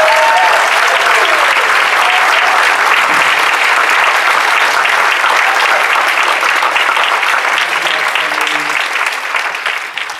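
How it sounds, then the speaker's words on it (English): An audience gives a round of applause for author Brendan Slocumb at a live book event, a full, loud, continuous wash of clapping that holds steady for about ten seconds before tapering slightly at the end. "can we give one more round of applause for Brendan?"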